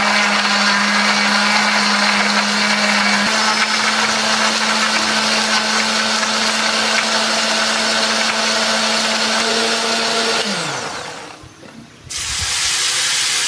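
An electric blender grinds a spice paste of coriander, turmeric, ginger, candlenut, shallots and garlic with a little water, a loud steady whirring hum that runs for about ten seconds, then winds down to a stop and briefly starts again.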